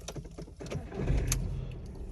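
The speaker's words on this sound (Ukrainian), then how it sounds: "Автівка заведена, заглушимо та заведемо ще раз." A 2001 Audi A2 engine is switched off and started again, its low idle cutting out, then a starter crank and the engine catching and settling into a steady idle, close by.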